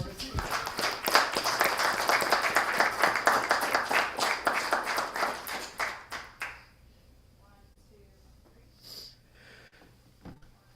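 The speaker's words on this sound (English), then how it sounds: "So how about one last round of applause for" Audience applause at a city council meeting: dense clapping for about six seconds that fades out, followed by quiet room tone with a few faint sounds.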